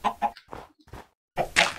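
Minecraft chickens cluck in short, close bursts, several quick clucks separated by brief silences, alone with no talk over them.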